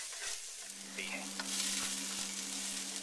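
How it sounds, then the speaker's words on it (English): Chopped onions for chili sauteing in a pan, a dense close sizzle with a faint steady hum underneath and light stirring ticks, no voices. "I'm going to saute the onions for about 3 minutes until they're nice and soft"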